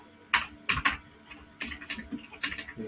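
Keys clatter on a computer keyboard while JavaScript code for a basic for loop is being typed, coming in quick bursts of close, crisp clicks with brief pauses between.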